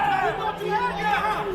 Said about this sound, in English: Warrior crowd indignant on the far side.